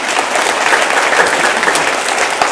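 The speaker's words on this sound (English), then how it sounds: "Clap for him again." Audience applauding at a school event, dense continuous clapping from a crowd, loud and close, holding steady throughout.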